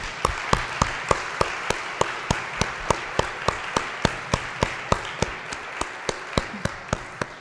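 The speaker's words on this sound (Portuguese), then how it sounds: "eu gostaria de pedir uma salva de palmas para a Noemi e para o Litercultura" Applause from the audience at Litercultura, a literary event with author Noemi Jaffe: a steady run of even, crisp claps over a soft crowd wash, moderately close and lasting throughout.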